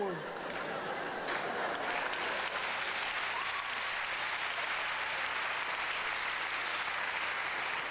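Dense, sustained audience applause fills a comedy gala hall, steady and loud throughout with crowd noise and a voice briefly audible beneath it.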